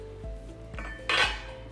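Frozen turkey cartilage pieces are dropped into a metal pot of water, giving several sharp clunks and clinks about half a second apart, with a brighter clatter near the end, close and fairly quiet.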